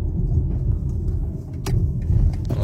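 A car with ParkAssist begins a parking manoeuvre, its steady low engine rumble and road noise continuous, with a couple of faint clicks on top.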